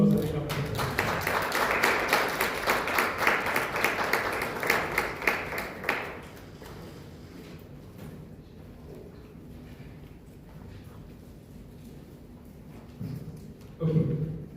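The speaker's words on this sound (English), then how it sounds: "Let's give them a round of applause as they come." An audience at a constitutional amendments public debate in Lusaka, Zambia, claps in sustained applause for about six seconds, then it cuts off into quiet room tone, with a brief burst of sound near the end.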